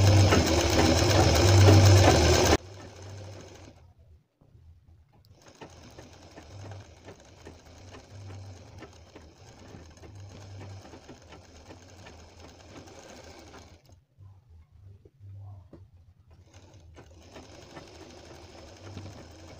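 A sewing machine stitches a gathered frill onto a sleeve in short runs, its steady rapid whirring pausing briefly between bursts, preceded by a loud burst of other sound at the start.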